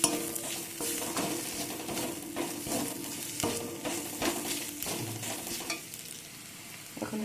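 Ginger, garlic, ground cumin and coriander fry in a pan, sizzling steadily while a spoon stirs and scrapes repeatedly against the metal, close and fairly quiet.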